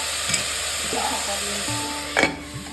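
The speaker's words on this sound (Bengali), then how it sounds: "পেঁয়াজটা ভালোভাবে লাল লাল করে ভেজে দিচ্ছি।" Onions fry to reddish-brown in a pan for a pressure-cooker mutton curry, giving a steady sizzling hiss with a few scraping stirs and a brief louder clatter near the end, close up, no talking.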